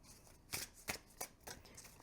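Starlit Gleanings tarot deck, 350 GSM cardstock, riffled by hand in four quick crisp bursts spaced evenly, close and quiet with no talking.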